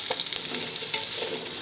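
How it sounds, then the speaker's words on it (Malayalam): Onions hit hot coconut oil for Kerala-style fish in banana leaf, giving a bright, crackling sizzle with a few stirring scrapes, loud and close over a short span, with no talk. "ഇനി കുറച്ച് വെളിച്ചെണ്ണ ഒഴിച്ച് അതിലേക്ക് ഉള്ളി ഇട്ട് കൊടുക്കാം."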